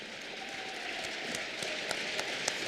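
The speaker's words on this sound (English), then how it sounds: "for a round of applause." Hockey arena crowd applauding military veterans who stand during a girls' hockey game, a steady wash of clapping with a few sharper claps poking out, moderately distant and even throughout.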